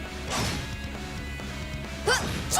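A shatter attack in the video game The Legend of Heroes: Trails of Cold Steel lands with crashing, whacking impacts and sharp bright hits, loud over game music.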